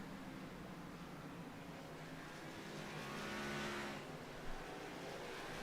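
A race car on the oval at North Wilkesboro, heard faintly as a distant hum that swells to a passing roar around the middle and then fades, with no voices.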